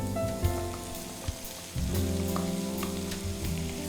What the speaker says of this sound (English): All your veggies just need to be sauteed for 1 or 2 minutes.